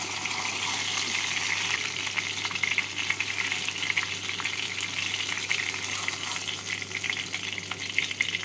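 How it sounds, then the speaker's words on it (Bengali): Pabda fish fry in oil in a pan, giving a continuous, even sizzle and crackle at close range with no talking. "এইভাবে বাকি মাছগুলোকে ভেজে নেব।"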